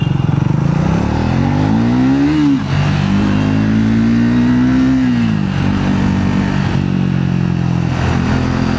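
A Triumph Scrambler 400X with a 398cc engine accelerates hard, its loud, close exhaust note climbing in pitch, dropping at a gear change, then pulling up steadily again before easing off.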